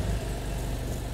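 A motorcycle engine starts after the key is turned and settles into a steady, rumbling low idle, close and fairly loud for a brief moment.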